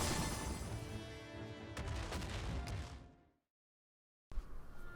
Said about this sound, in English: he'll punch the ground and then raise up 5 spiked Cronus pillars from the ground in front of him